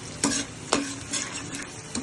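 Chicken frying with garlic in a pan for afritada, a loud steady sizzle broken by several bursts of stirring and scraping, with no talk.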